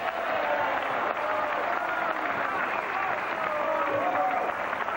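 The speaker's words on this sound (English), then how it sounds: "The crowd still supporting Paez." Crowd applause at the World 9-Ball pool championship final, a sustained moderate round of clapping from the audience, heard at a slight distance, with a commentator's voice faintly mixed in.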